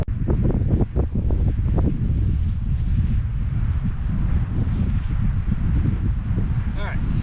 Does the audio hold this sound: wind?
yes